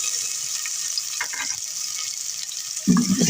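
Finely chopped onions sauté in about three tablespoons of oil, giving a steady close hissing sizzle with faint clinks of a utensil and a louder stirring scrape near the end.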